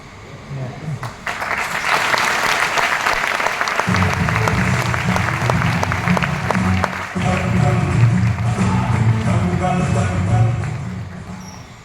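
An audience breaks into applause, a loud sustained roar of clapping that swells after the first second and carries on for about ten seconds, with voices and murmuring mixed in underneath.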